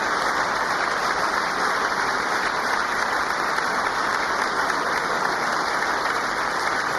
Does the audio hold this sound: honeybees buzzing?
no